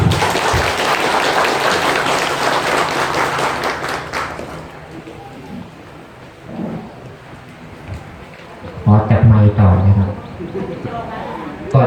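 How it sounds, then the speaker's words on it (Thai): Members applaud at the annual general meeting and president election of the Sakon Nakhon amateur radio association: loud, full clapping for about four seconds, then it fades and someone speaks. "ขอเสียงปรบมือครับ"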